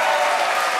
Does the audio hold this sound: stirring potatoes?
no